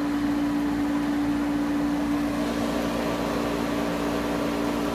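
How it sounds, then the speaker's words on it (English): A self-contained refrigerant recovery machine runs its compressor and condensing-unit fan motor, a steady loud mechanical drone with a strong low hum and broadband whooshing that holds constant throughout. "this has its own compressor. That's what you hear running inside, and a fan motor with a condensing unit in the back"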